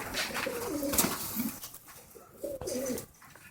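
Pigeons cooing in a breeding loft: two bursts of soft, throaty warbling coos, close and clear, separated by a brief lull with faint rustling.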